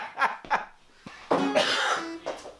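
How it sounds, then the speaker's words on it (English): Several coughs from a person in a songwriter studio: two short sharp bursts, then a pause, then a longer rough cough and a fainter final one, close and clear. "This is a cough pause"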